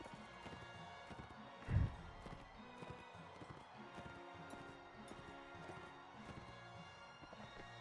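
Horse hooves thudding at a steady clip-clop in a Mount and Blade Warband battle setting, moderately loud with one heavier impact early and a busy game backdrop.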